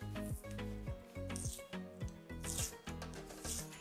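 A thick layer being peeled from a playing card on a tabletop for a magic gimmick, a close, quiet run of rubbing and tearing scrapes in uneven pulls.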